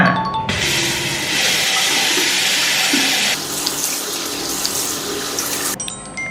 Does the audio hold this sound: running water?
yes